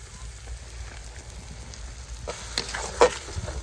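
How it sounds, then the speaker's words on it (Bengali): A ground paste of black and white mustard seed with poppy seed, plus green chili, frying in spiced oil for a fish curry; a steady close sizzle with a few sharper spits and stirring sounds near the end. "এবারে কালো সর্ষে, পোস্ত, সাদা সর্ষে একসঙ্গে বাটা আছে, কাঁচা লঙ্কা, এটা দিয়ে দেবো।"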